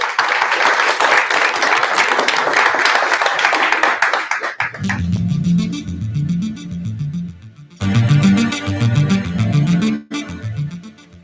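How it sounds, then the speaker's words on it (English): An audience at the Namibian Annual Music Awards 2019 prize-giving ceremony applauds loudly for about four seconds, then the clapping gives way to a bass-heavy music track with a pulsing beat. "Give them a round of applause, ladies and gentlemen."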